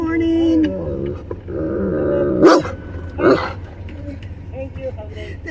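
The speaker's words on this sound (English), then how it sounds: "Don't start barking because you're not getting a donut." A dog barks once sharply, then gives a second shorter bark about a second later, close by, in a drive-through setting with idling engine hum and people talking nearby.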